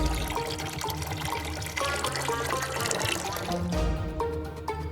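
Water pours steadily into a container to wash dirty socks, a continuous splashing, gurgling fill that stays fairly loud and close for the whole stretch.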